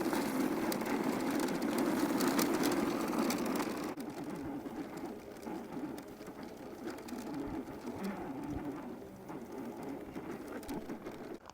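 A GB120 carry-on travel mobility scooter's electric motor whirs steadily while climbing a steep incline, louder for the first few seconds and then settling into a quieter, continuous hum.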